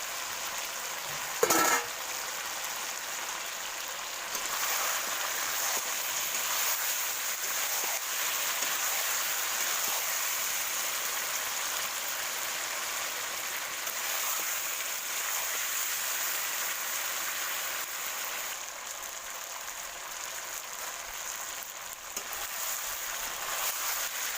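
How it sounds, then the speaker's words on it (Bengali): Meat and already-fried potatoes sautéing together in a pan on a wood fire for a home-style meat curry, a steady close sizzle and hiss with a brief clatter near the start. "দেখো ভালো করে কষিয়ে নিচ্ছি ভেজে রাখা আলুগুলো আমি অ্যাড করে দিলাম"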